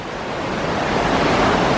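Water rushing over a dam that holds back the outflow of Hamer Cave to feed a mill flume at Spring Mill, a steady broadband roar, fairly loud and continuous with no voices.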